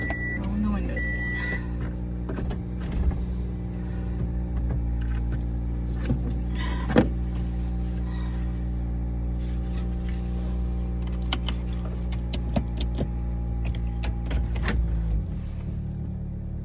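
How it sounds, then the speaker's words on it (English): Car power windows roll down inside an idling car, a faint electric whir under a steady low engine hum, with a few small clicks and a short motor sound early on. "Rolling the windows down."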